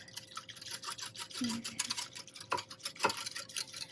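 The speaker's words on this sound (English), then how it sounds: "we are going to give this a really nice stir" A spoon stirs strawberry Jell-O dissolving in water in a pot, giving scattered light clinks and ticks at an uneven pace over a soft background.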